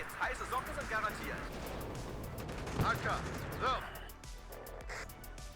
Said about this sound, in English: They're using their mortars quite a bit, which is fine.